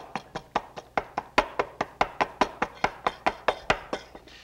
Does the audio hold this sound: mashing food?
yes